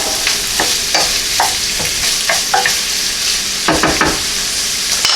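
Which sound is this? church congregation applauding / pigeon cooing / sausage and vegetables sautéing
sausage and vegetables sautéing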